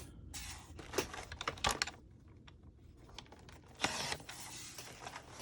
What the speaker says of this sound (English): I am going to trim this one up just slightly